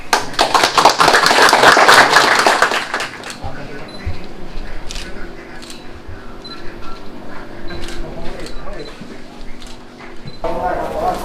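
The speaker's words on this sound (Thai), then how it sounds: "ขออนุญาตปรบมือเป็นกำลังใจครับ" An audience at a Thai charity donation ceremony for the Police Hospital claps in encouragement, a loud burst of applause over the first few seconds that gives way to scattered taps and a voice speaking.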